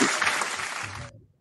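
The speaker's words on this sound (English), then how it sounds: "Brooks, if you don't mind, let's applaud Eugene's dad for being so" A brief burst of audience applause, loud at first, then fading out within about a second before cutting to silence.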